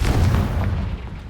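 A Confringo blasting spell detonates in Hogwarts Legacy, a single loud, deep booming explosion up close that rumbles briefly and then decays.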